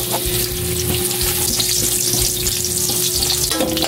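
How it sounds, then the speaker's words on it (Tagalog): Garlic sautéing in a hot pan in a home kitchen, a steady loud sizzle and crackle of frying with occasional stirring scrapes, close and continuous with no talking. "muli po tayo magigisa ng bawang"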